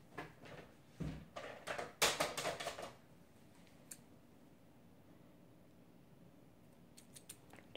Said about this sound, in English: Maybe I can trim that. Where are my scissors?